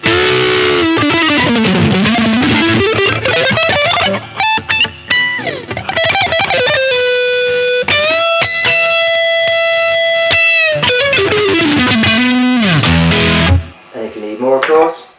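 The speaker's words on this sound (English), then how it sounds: "concentrate on the full distortion sound" Heavily distorted electric guitar on the neck humbucker plays sustained, saturated notes and bends, loud and up front, with no talking.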